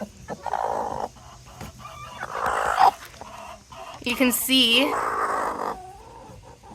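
A broody hen makes soft, fussy clucks and drawn-out grumbling calls close by, while a person talks over part of it.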